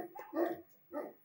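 Dogs bark at night, two sharp barks about half a second apart, close and clear with no voices.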